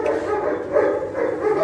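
A muzzled dog on a farm gives muffled yips and whimpering barks, close and fairly loud, in a short continuous burst with no one talking.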